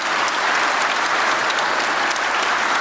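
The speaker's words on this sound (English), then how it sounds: "Great round of applause." Sustained, dense applause from the audience at a live book talk, steady and fairly loud throughout with no break and no speech over it.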